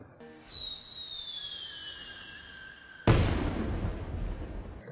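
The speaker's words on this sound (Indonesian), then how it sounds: "Acara final dari festival itu ditutup dengan peluncuran kembang api yang jelas juga disaksikan oleh Sayu bersama Yoshida" Fireworks at a festival closing in an anime: a rising whistle glides downward for about three seconds, then a loud burst erupts into a crackling, fading tail.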